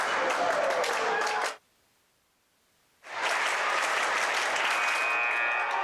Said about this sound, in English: The crowd trying to give Viroqua a little fuel here, try to get it back into this game.